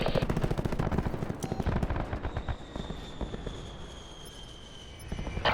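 Rapid automatic gunfire in Call of Duty Black Ops 4 during a team deathmatch on Hacienda, with loud dense bursts of shots early that thin into scattered fire over a steady high whine.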